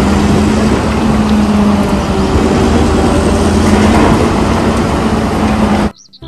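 A toy loader truck gives off a loud, steady mechanical engine drone with a low humming tone running through it, continuous for about six seconds before cutting off abruptly.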